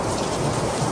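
Heavy rain pours steadily in a dense, close roar during a flooding thunderstorm, with a low rumble of thunder underneath and no voices.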